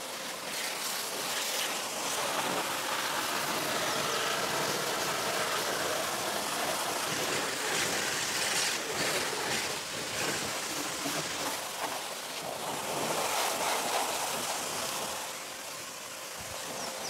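A pressure washer blasts water onto a mud-covered car, making a loud, steady broadband hiss that continues almost unbroken for the whole stretch.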